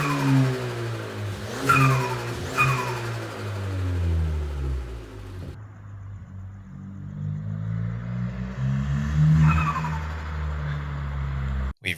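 Ford Fiesta ST engine fitted with a GFB DV+ diverter valve, revving loudly up and down with two sharp blow-off whooshes early on, then a steady high-revving drone that cuts off abruptly at the end.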